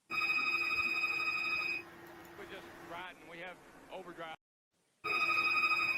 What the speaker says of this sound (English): All I hear is phones ringing and the video stopped